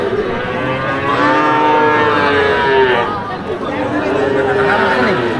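Calves and cattle moo repeatedly at a busy rural cattle market in Ambari, Dinajpur, the long lowing calls rising over a steady crowd murmur with people talking nearby.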